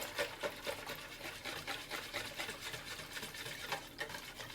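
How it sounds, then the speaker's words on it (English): Vegetable oil, egg yolks and buttermilk for waffle batter whisked in a bowl, a steady rhythmic swishing and clinking of the whisk against the bowl, close and continuous without talk. "we're gonna mix these two together. Vegetable oil, egg yolks."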